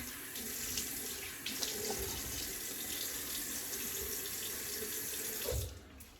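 Water runs steadily from a sink tap for rinsing alum off the face after a straight-razor shave, a close, continuous splash that stops near the end.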